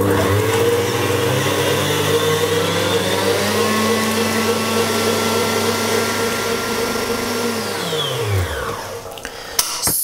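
A stand mixer whips whole eggs and sugar in its bowl for a lemon cake, a loud steady motor whir throughout that winds down near the end before a couple of faint clinks.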